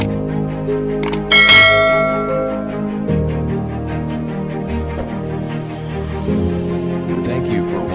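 A bright bell ding rings out once near the start and leaves a ringing tail, followed by sustained tonal, musical sounds that carry on underneath.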